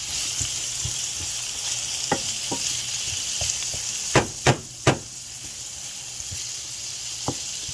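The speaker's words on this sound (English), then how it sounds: "So I got the butternut squash roasting in the pan." Butternut squash sizzles steadily as it roasts in a hot pan, a constant frying hiss broken by a few sharp utensil taps and scrapes against the pan.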